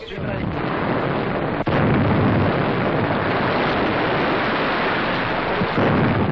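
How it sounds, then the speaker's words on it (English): A sustained, thunderous roar of a large explosion in a harbor during the Lofoten raid rumbles loud and continuous, with a brief dip in the middle, like a massive blast echoing across water. "A last staggering explosion shakes the harbor."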